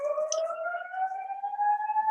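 A single steady siren wails with a slowly rising tone, clear and sustained, with no talking.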